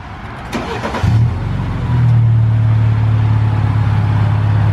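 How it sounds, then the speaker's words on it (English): A BMW 228i fitted with a new Injen cold air intake cranks and fires up, then settles into a loud, steady low engine drone close by, with a brief rattle at the start and no talking. "sound check time with the new intake"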